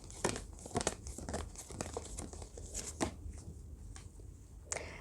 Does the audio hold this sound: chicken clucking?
no